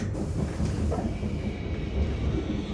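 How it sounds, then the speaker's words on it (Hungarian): Steady, close rumble of a passenger train running on rails, heard from inside a carriage at high speed near the Austrian-Hungarian border, with no voices. "És már utazunk a vonaton."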